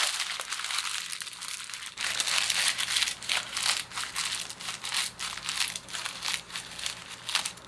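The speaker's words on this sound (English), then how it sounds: "Crinkle it up again. And just keep crinkling it until you get it as wrinkly as you want." Stamped paper being crinkled and crushed by hand to make faux leather, a dense, continuous crackling that grows louder and busier after the first couple of seconds, close and alone.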